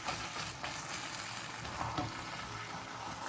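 Jambalaya with chicken and chorizo being stirred in a pot, a steady close sizzle with soft scraping along the bottom and low clattering, no talk.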